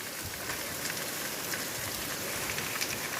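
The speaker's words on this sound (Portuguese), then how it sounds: "Tá engrossando mais ainda a chuva" Heavy rain falls in Taperoá, Paraíba, a steady, dense hiss of drops on surfaces with no pauses and no voices.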